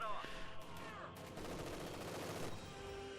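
Machine gun fire in a World War II strategy video game, with rapid overlapping shots layered over continuous battle noise at moderate loudness.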